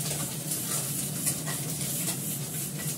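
Fish frying in hot oil, with a continuous close sizzle and crackle, steady and unbroken throughout.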